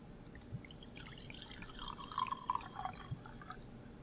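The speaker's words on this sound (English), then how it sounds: "And I'm going to give it a pour." Sake, a tokubetsu bottling, trickles from a freshly opened bottle into a glass as a close, gentle pour with soft dripping and splashing over quiet room tone.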